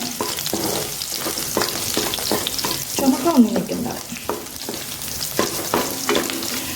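Ginger and garlic fry lightly in a pan for Yippee egg noodles, giving a steady soft sizzle broken by repeated scraping stirs. A voice speaks briefly midway.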